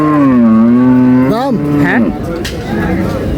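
A pregnant Friesian dairy cow gives a long, loud, low moo close by, its pitch wavering before trailing off amid background chatter at a cattle market.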